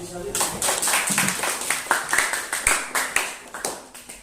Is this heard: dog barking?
no